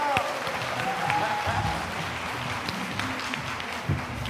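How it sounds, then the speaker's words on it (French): Studio audience at a Burkina Faso television entertainment show applauds a performer, a steady mass of clapping with scattered shouts and occasional talk underneath. "On l'applaudit là."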